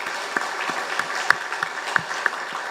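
A church congregation applauding during a Sunday service, a dense steady patter of many hands clapping at close range with brief louder claps standing out.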